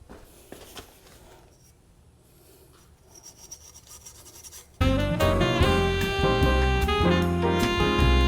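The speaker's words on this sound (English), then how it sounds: "now that I've scrubbed this off with that scouring pad" A scouring pad rubs across the hub seating surface of a Cybertruck wheel hub in quiet, faint scratchy strokes, then loud music with a steady beat abruptly takes over and masks it.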